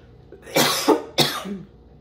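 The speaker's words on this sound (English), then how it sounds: "Sorry for coughing." Two sharp coughs from a single person close by, about half a second apart, each a short harsh burst with a faint throat sound trailing after the second.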